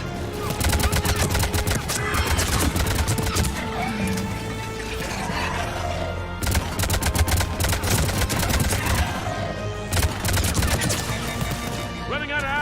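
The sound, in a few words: gunfire in the video game Mass Effect 3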